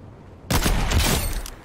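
A sudden loud burst of gunshots in Fortnite, starting abruptly after a quiet moment and continuing as rapid, booming fire for about a second.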